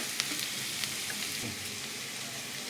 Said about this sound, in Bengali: পেঁয়াজটা একটু হালকা করে আমি ভেজে নেব